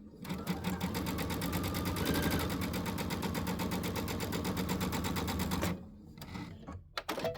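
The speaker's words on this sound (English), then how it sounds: "that's my first row of stitching" Domestic sewing machine running a row of stitching with a dual feed foot, a fast, steady mechanical whirr and needle rhythm that holds loud and continuous for several seconds before stopping abruptly.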